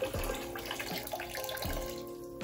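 Water splashing and gurgling as a siphon hose is pulled from a nano reef aquarium, a few soft irregular splashes and trickles, close and fairly quiet.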